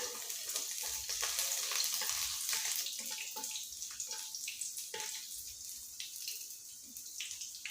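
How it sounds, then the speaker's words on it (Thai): Garlic sizzles in hot oil in a pan while cooking shrimp with chili and salt, a soft steady crackle with light stirring sounds, fairly faint and close. "จากนั้นใส่กระเทียมลงไปนิดหน่อยค่ะ ให้แค่ให้น้ำมันหอมก็พอค่ะ"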